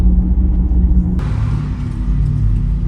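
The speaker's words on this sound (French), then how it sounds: "vous entendez le son qui permet d'imiter un peu le bruit de la Porsche" Porsche Taycan 4S electric car emitting its synthetic engine sound, a steady low hum and rumble that swells partway through with a faint rising whine, continuous and fairly loud with no talking.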